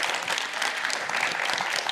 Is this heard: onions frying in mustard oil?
no